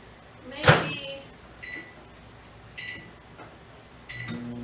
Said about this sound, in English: So I'm going to stick this in the microwave for just a minute and soften it up.